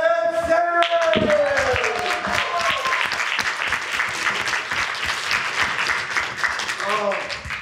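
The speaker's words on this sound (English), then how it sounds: "Give them a round of applause." Audience applause and clapping at an anime convention voice actor live reading fill the clip steadily, with voices and some musical tones layered over the dense crowd noise.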